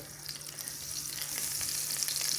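Oil and a little margarine warming in a pan, giving a low, even hiss with faint scattered crackles that grows slightly louder toward the end, with no voices.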